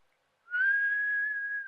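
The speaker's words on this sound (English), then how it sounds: "How do I whistle?" A person whistles a single steady, clear note that holds for about a second after a brief silence, close and fairly loud, with no talking.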